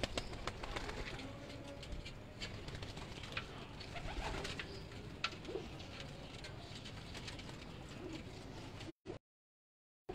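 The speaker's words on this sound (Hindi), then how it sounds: "ये वो इमामदीन कबूतर है" Imamdin breed pigeons cooing softly in a loft, low murmuring coos over a steady background hiss with faint rustling, ending in a brief cut to silence.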